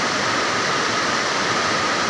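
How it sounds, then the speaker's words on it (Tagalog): Steady, loud rushing flood water from the mountains after rain, a dense continuous roar like a swollen creek flowing hard nearby. "Ulan pa lang, ganyan nakalaki ang tubig sa sapa."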